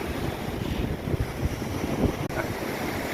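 Sea waves wash onto Phayun beach in Ban Chang, Rayong, with wind. The roar is steady and broad, with a constant rush of surf and gusting wind noise close to the microphone and no voices.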